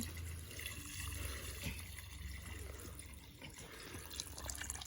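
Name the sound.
hot water poured into soup pot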